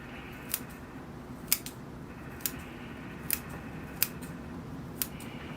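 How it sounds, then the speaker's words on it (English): Scissors trim the roots of a bonsai tree during root pruning: about six crisp, close snips spaced roughly a second apart over a quiet, steady background hum. "A little more trimming on the bottom here."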